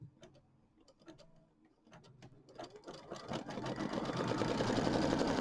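An embroidery machine stitches a placement line for a pumpkin applique, starting with sparse ticking clicks and building into a fast, steady rhythmic needle chatter, close and clear with no talk.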